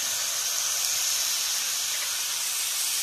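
Spices with turmeric and salt sizzling steadily in a pan while being sautéed, a soft continuous close hiss with no voices.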